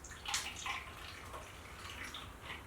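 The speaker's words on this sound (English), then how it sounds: "Now that we've got the sanitized water, all we're going to do is just pour a little bit into each bottle" Sanitized water is poured into bottles during home brewing of an Australian pale ale, giving a faint, close splashing and trickling with a few short bursts of drips.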